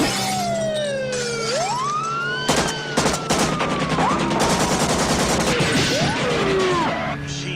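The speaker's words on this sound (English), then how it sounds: "Machine guns." Machine gun fire in a movie car chase scene: sharp bursts of rapid shots crack out partway through, set against sweeping siren-like wails and roaring engine noise, loud and close throughout.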